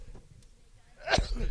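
A single sharp sneeze bursts out near the mic after a second of quiet background rumble, followed by brief breathy noise.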